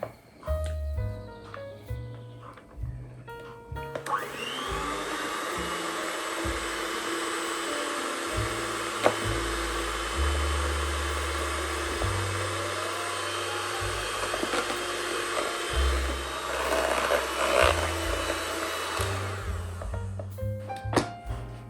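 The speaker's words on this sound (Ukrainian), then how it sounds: "Продовжуючи збивати, додаю заварну основу в крем." An electric mixer drones on at length, whipping cream while custard base is added, whirring steadily with occasional knocks and clunks as it works, near and continuous, no talking.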